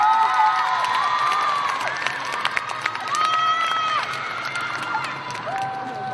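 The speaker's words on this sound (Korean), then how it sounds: "힘찬 박수로 고산 대표님 모시겠습니다." Young people in a gymnasium audience cheer, shout and clap to welcome a speaker at a youth humanities lecture concert. The lively crowd noise is steady, with rising and falling high voices throughout.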